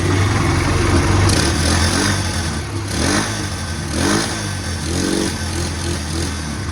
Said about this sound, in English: Anyway, the motor sounds great.